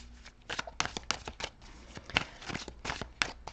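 Tarot cards shuffled by hand at close range, a quick run of crisp riffling slaps and flicks in irregular bursts, with no talking.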